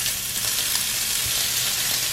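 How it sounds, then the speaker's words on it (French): Ground meat stuffing browning in a frying pan, with steady close sizzling and occasional stirring scrapes and no talk over it. "Donc là je vais juste faire revenir vite fait à la poêle"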